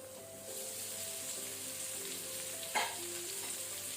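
Sardine fish eggs fry in oil in a covered pan, giving a steady close sizzle with a brief louder crackle near the end and no voices.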